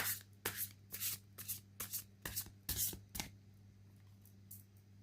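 Tarot cards riffle and slide in a quick series of soft shuffling bursts, close and quiet, ending in a faint pause as a card is drawn.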